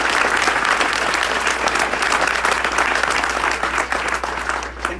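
Sustained audience applause fills the room at a 2019 corporate ribbon-cutting ceremony, a dense, steady clapping that stays loud throughout and eases slightly near the end.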